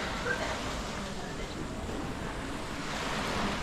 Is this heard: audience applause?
no